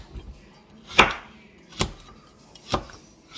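A knife chopping green peppers on a cutting board at home, three separate sharp chops spaced about a second apart, crisp and close against a quiet background.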